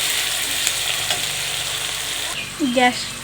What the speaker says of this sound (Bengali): এই যে পেঁয়াজটা ভাজছি। দেখো দেখো বন্ধুরা, পেঁয়াজটা একটু লাল লাল করে ভেজে নিচ্ছি